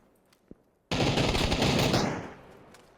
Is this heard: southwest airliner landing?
no